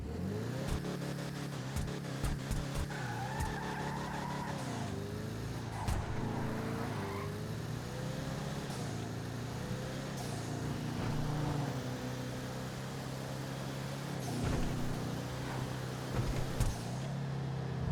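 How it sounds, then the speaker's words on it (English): Declasse Impaler SZ Cruiser from GTA Online revving its engine steadily for the whole stretch, loud and continuous, with shifting engine pitch and turbo blow-off hisses breaking through now and then. "it does have a really cool turbo, like blow-off valve noise"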